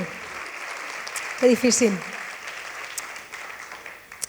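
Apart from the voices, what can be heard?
audience applause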